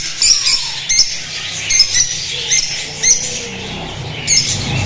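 Caged birds at a bird shop in a Magura market, repeated short squawking chirps in bursts about once a second, close and clear over a low background murmur.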